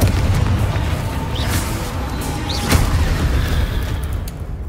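A Confringo fire-blast spell cast in the Hogwarts Legacy video game: a dense, rumbling boom-laden burst with a sharp crack near the middle, over continuous loud game noise for nearly five seconds.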